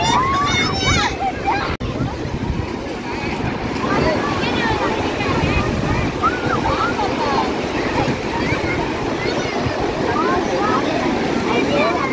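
Sea waves wash continuously onto the sand at Marina Beach, Chennai, mixed with heavy wind buffeting the microphone, while people talk nearby.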